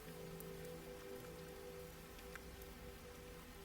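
Steady rain falls on a city surface, a constant even patter with occasional louder drops, with no voices.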